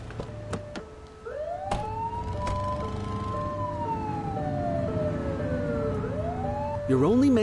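A wailing police siren from the video game The Precinct sweeps up and down over engine hum, punctuated by sharp clicks, then a brief burst of a different warbling tone at the end.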